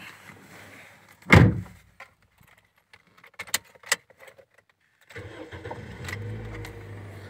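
A used car's engine cranks and catches in one loud close burst, followed by small clicks and rattles inside the cabin, then a steady low idle fades in for the last seconds with no talk.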